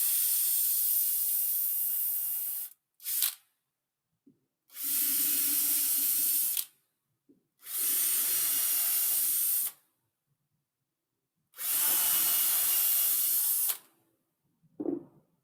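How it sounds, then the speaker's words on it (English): Four long bursts of a cordless power drill boring holes around a perimeter, each a loud steady whirring hiss lasting a couple of seconds, separated by silent pauses with a few short blips. "we'll drill some holes around the perimeter"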